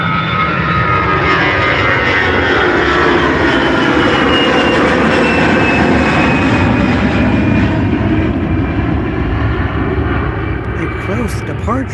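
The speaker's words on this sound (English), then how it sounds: "both Deltas taking off right after each other" A Delta airliner takes off from Albany International Airport. A loud, sustained engine roar rumbles and whines as it builds, heard from nearby at the airfield.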